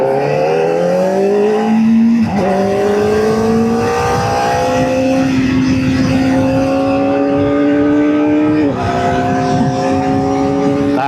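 Kawasaki ZX4R SE motorcycle engine accelerates hard, its loud, close whine climbing steadily in pitch with two quick gear shifts breaking the rising tone.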